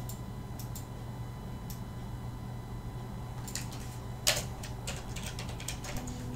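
A computer keyboard typing a search into a web browser. The keystrokes are faint, sparse and clicky, with a few at first and then a quicker cluster, over a steady low hum.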